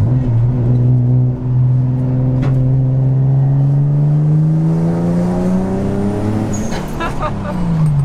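Built twin-turbo Infiniti G35 engine revving hard on a dyno, one long sustained pull with pitch climbing steadily as boost builds, loud and continuous, ending in a brief drop and re-rev.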